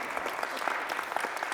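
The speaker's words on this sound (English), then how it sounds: "Let's have a round of applause for your hard work." Brief audience applause in recognition of students' hard work: steady, moderately loud clapping from a group, even and continuous without a break.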